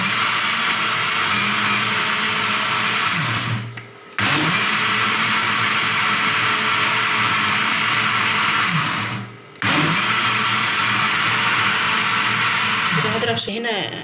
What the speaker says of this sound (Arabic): ده يا حبايبي هضربه في الخلاط معاكم.